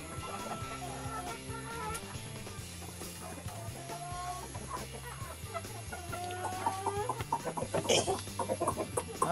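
RMG heritage chickens cluck repeatedly in a farmyard, with several birds calling in overlapping rhythmic bursts at moderate distance amid ambient outdoor noise, growing a bit busier toward the end.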